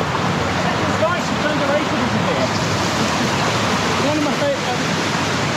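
Water pours and rushes steadily at a desert waterfall on a hot, sunny day, a dense continuous roar that stays even throughout, with faint voices mixed into the wash.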